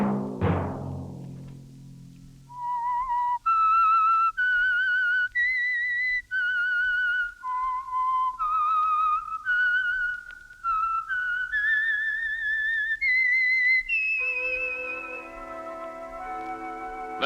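A clear whistled melody of sustained, sliding notes carries on for several phrases after a short low musical intro, ending on a held tone.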